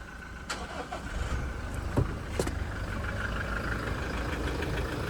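A Toyota Hilux 2.4 litre engine runs on ordinary Toyota engine oil after a cold start, idling with a steady low rumble and a few sharp clicks early on, heard close with no talking.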